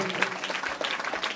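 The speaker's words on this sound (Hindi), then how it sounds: "जोरदार तालियों से स्वागत करेंगे।" Applause from the crowd at a jasgeet song competition prize distribution, a brief burst of dense, close clapping with no gaps.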